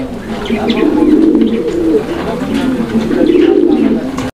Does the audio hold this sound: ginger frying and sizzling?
no